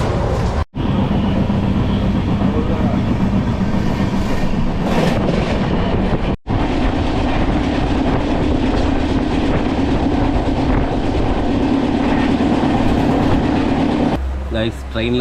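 A passenger train on an overnight run toward Vijayawada, Andhra Pradesh, heard from inside the carriage: a loud, continuous rumble and rattle of wheels on rails, with rhythmic clatter throughout, alone, briefly cutting out twice.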